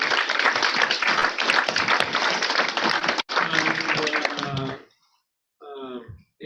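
An audience at a hybrid session on truth and democracy applauds the speakers with dense, sustained clapping for several seconds. A brief pause follows, then it fades, and a voice speaks at the end.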